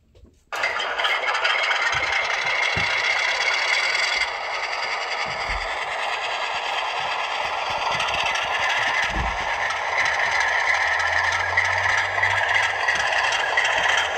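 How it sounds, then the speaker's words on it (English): Long Island RS3 model locomotive running along track, a steady, close, continuous rattling and scraping motor drone that holds for the whole stretch, with occasional clicks and a low hum appearing toward the end. "I love the sound of an RS3. It always sounds like it's about to fall apart."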